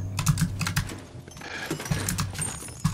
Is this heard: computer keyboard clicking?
yes